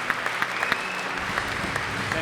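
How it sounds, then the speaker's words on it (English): A conference audience applauds to welcome a business speaker onto the stage, a full, continuous round of clapping heard from within the hall. "Please welcome on stage with a big applause, Alexander Osterwalder."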